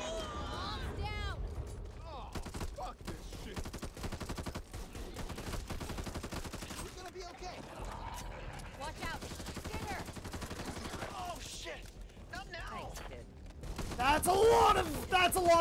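Continuous gunfire in the co-op zombie shooter Back 4 Blood beta, rapid automatic shots rattling throughout with dense crackling bursts, growing louder near the end, with a voice talking over the shooting.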